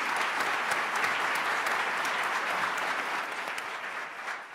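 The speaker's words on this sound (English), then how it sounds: "You keep applauding like that." Sustained applause from a seated audience at a swearing-in ceremony for a state chief judge, a dense, steady wash of many hands clapping that holds loud throughout and eases slightly at the very end.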